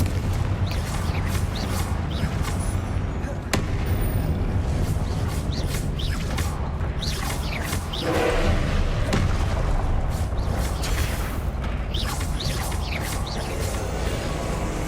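Spell blasts and impacts from combat in the video game Hogwarts Legacy, a dense stream of booms, crashes and thuds, loud and near, over a continuous rumbling game soundscape.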